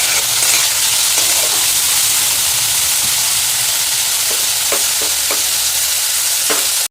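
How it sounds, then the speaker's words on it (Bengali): Potato and bitter gourd slices fry loudly in a pan, a constant close sizzle broken by occasional scraping stirs. "এখন বসে দিচ্ছি আলু করলা ভাজা।"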